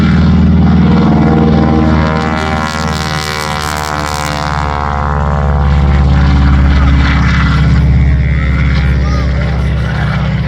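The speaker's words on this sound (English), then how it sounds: "you can hear the music coming from that incredible 600 horsepower Pratt & Whitney" A powerful 600-horsepower Pratt & Whitney radial engine on a North American Harvard Mk. II roars loudly and close at an airshow, its deep throbbing drone rising and falling as the propeller aircraft passes.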